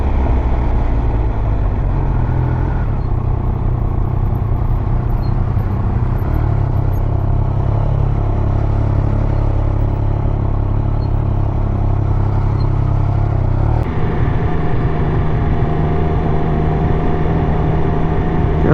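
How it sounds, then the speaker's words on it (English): Triumph Speed Triple 1200 motorcycle engine and stock exhaust droning steadily from a rider's perspective, a continuous loud rumble with a slight shift in tone near the end and no talking. "God, that exhaust sounds so good."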